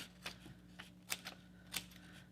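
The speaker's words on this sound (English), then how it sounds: "Now notice when I'm snipping, I'm pointing away from my body" Scissors snipping lines into paper, a handful of short, crisp cuts at uneven intervals, quiet and close over a low steady hum.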